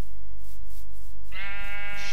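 A sheep bleats in a modded video game, a single wavering bleat that starts partway through over a steady, loud background hum.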